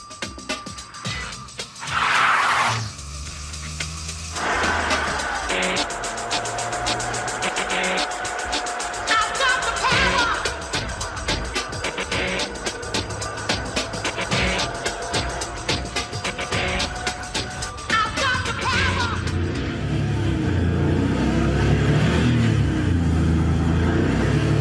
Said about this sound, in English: It's that deep throb of the engine, the throaty menace that really turns people's heads.